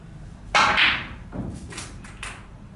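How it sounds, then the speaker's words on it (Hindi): A snooker cue drives a power screw shot to long-pot the blue, giving one sharp, loud knock of cue on ball, then softer clicks as the balls strike and settle, with no talking. "ब्लू को लॉन्ग पॉट में करते हैं और स्क्रू करके हम कोशिश करते हैं कि व्हाइट बॉल को इस बॉल लाइन तक लेकर आए"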